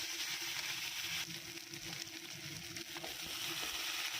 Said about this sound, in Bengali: তো পাঁচফোড়ন দিয়েছি, আর কাঁচা লঙ্কা, পেঁয়াজ, তেজপাতা দিয়ে লাল করে নিব